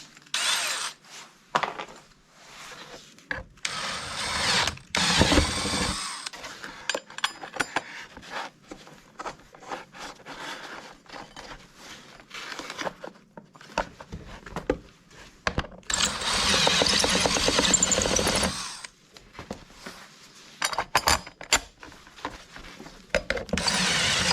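Power drill boring 6mm guide holes in a Turgo runner for a micro hydro build, repeated close bursts of whirring and grinding that start and stop in an irregular pattern, with quiet gaps between holes.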